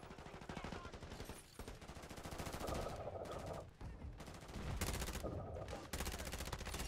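Rapid bursts of automatic gunfire and shots in a first-person shooter video game, loud and sustained with brief gaps, mixed with faint voices.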